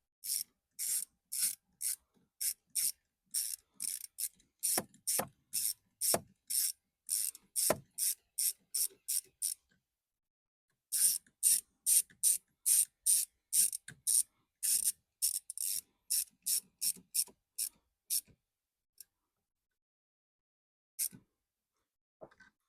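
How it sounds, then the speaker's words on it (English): A ratchet fitted with a T25 bit tightens the bolts of an A/C expansion valve on a 2014–18 Chevrolet Silverado-family truck, making crisp, close clicking bursts in repeated strokes with short pauses between them. "we use our T25 and then we thread it in and tighten them"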